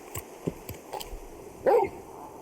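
Torgal, a large dog in Final Fantasy 16, gives a few short, soft barks and yips, ending in a louder single bark over quiet game ambience.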